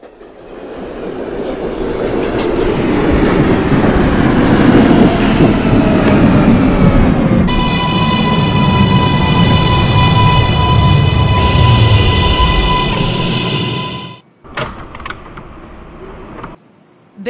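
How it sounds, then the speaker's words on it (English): An R142A subway train on the 4 line in the Hmmsim 2 simulator runs loud and close, its motors whining through rising and steady tones over a rumbling roar before it slows and stops, followed by brief clunks. "This is a Woodlawn-bound 4 local train."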